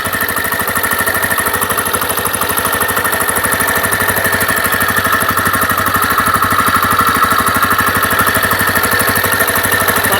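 A TVS Raider motorcycle idles after an engine refit, its steady, even putter running close and loud without a break.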